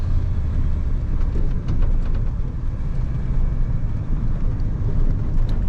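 Steady low engine rumble and road noise from inside a moving 1978 Ford F-250 Super Cab pickup, smooth and continuous with no talking.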